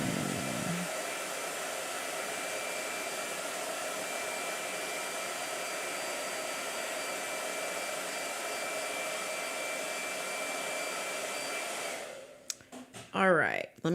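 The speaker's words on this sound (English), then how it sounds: "Blow dryer." A blow dryer runs loud and steady as a continuous broadband whoosh for about twelve seconds, then cuts off, followed by a few brief voices.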